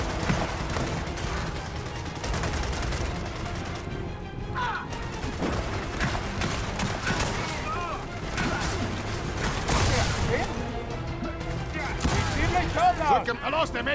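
Gunfire in a Gears of War 4 battle, bursts of shots and clattering impacts running almost continuously through a dense, loud mix with crashes and shouted voices.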